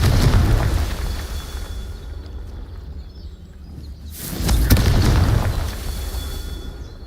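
Confringo fire-blast spell going off in a Harry Potter-style video game, heavy booming explosions with deep rumbling bursts at the start and again midway, separated by a quieter lull.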